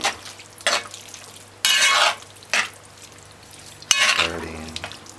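Saltfish and cabbage stirred with ketchup in a pot on the stove, spoon scraping in several separate bursts of clatter and sizzle amid quiet gaps.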